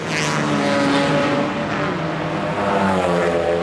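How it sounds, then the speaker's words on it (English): A Ford Mustang race car roars through a turn in a 1994 Trans Am race at Three Rivers, its engine loud and steady with rising and falling pitch and no voices. "Notice how very well he's driving that Mustang."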